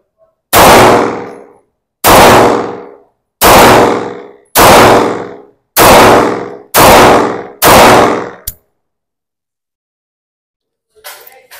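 Seven loud pistol shots from a Springfield Armory 1911 Ronin EMP with a 3-inch barrel crack at a steady pace, each with a short echoing decay, followed by silence and faint rustling.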